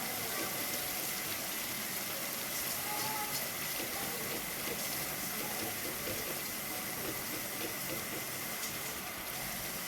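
Water pours steadily into a cooking pot for kadhi, a quiet continuous rushing and splashing with no pauses and no voices.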